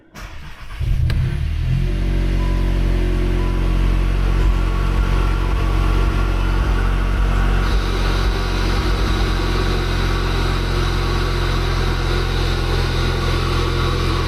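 A Volkswagen MK8 GTI engine starts with a brief crank, then settles into a loud, steady idle with a prominent intake roar, close by and with no talking.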